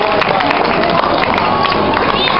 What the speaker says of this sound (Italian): Grazie dell'applauso.